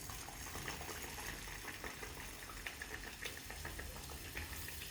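Puri dropped one by one into hot oil, a dense continuous bubbling sizzle at moderate level, steady throughout with small crackles.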